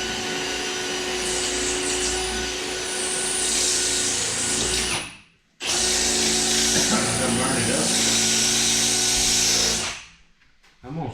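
A power drill bores into a race car trailer in two long, steady whirring runs split by a short pause, then stops near the end, with people talking nearby.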